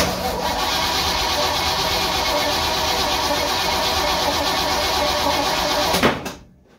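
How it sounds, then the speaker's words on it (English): A supercharged car engine cranks over continuously with a steady, loud mechanical churn close by for several seconds, then cuts off abruptly into near silence. "Then I'll hit my trigger, crank her over."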